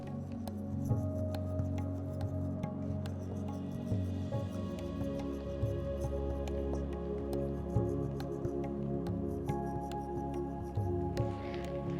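A toothbrush scrubs the biting surfaces of a resident's teeth during mouth care, making soft, repeated wet rubbing and squishing strokes over a faint steady background hum.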